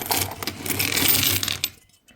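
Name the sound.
kopek coins poured out of a child's savings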